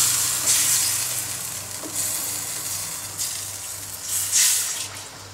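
A spoon stirs coconut cream into a Thai green curry in a hot pan, giving a steady sizzle and bubbling hiss with periodic scraping swishes as the mixture is worked around, close and fairly loud.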